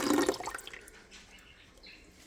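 Purified water splashes into a Frigidaire compact ice maker's reservoir, a bright burst of pouring that fades into light dripping and trickling, close and alone.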